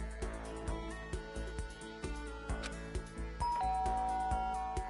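A doorbell ding-dong chimes over background game music in Danganronpa, with steady layered tones and a sustained bell-like note rising in the latter part, no voices present.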